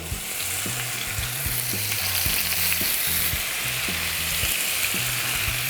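A large steak, about 1 kg, searing loudly in hot oil, a steady crackling hiss close by, with faint clinks of a utensil underneath.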